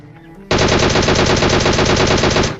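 Continuous automatic gunfire in the PUBG Mobile game, one loud, dense, rapid burst starting abruptly and running for about two seconds, close and with no voice over it.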